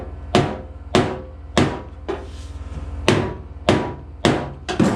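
Hammer striking a Bondo-patched fender on a 240SX, about eight loud, close metallic blows at a steady, roughly half-second rhythm, each ringing briefly over a low background hum.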